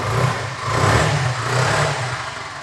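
A used 2015 Yamaha Fazer motorcycle runs at a steady idle nearby, its low engine note even and continuous, with slight swells in loudness and no voices.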